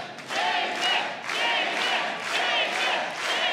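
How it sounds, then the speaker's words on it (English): A large crowd at a sold-out Korakuen Hall professional wrestling tag match chants in loud rhythmic waves for the heavyweight champion, rising and falling about once a second, filling the arena. "The crowd calling for the heavyweight champion."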